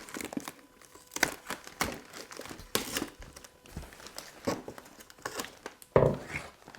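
Plastic packaging on a Bandai Captain Scarlet DX Skybase toy box crinkles as it is opened, irregular close crackles and rustles come in bursts with brief quieter gaps between them.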